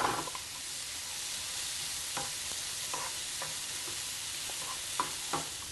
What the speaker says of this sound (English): we start by sauteing them in the pan